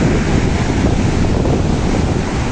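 Sea waves surge and break continuously at Sandspit Beach in Karachi, a loud, close wash of surf with heavy wind buffeting the microphone throughout.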